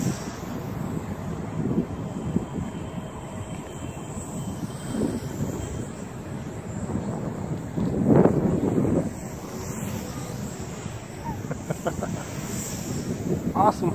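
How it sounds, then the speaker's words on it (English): Strong, gusty outdoor wind roars and buffets the microphone in a continuous rumble with surging gusts while a Sky Viper quadcopter drone flies nearby. "The wind's pushing it around, but it's having no problem having its way with the wind."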